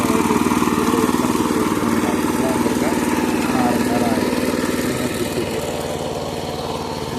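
A weeding machine's small engine runs steadily close by, a loud continuous buzzing drone that eases slightly toward the end, with no clear talk.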